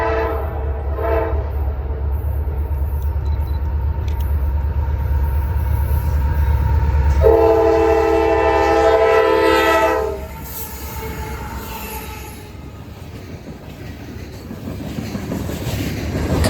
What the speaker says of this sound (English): Coming down from the north was CSX train T800. This is one of these coal trains